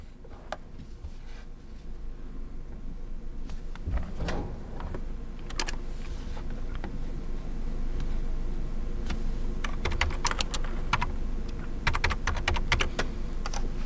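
Keys tap on a keyboard as a code is typed for a phone data-restore app, with irregular clusters of sharp clicks over a steady low background hum.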